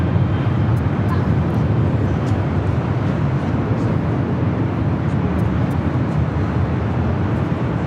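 A British Airways airliner takes off from the south side of LAX, producing a steady, broad jet roar that holds at an even level throughout.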